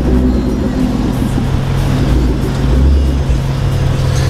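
A car backs into a parking spot, its low engine rumble close and steady with a brief swell of revs partway through, lasting a few seconds without talk.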